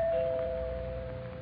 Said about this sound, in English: So here I go, ringing their doorbell.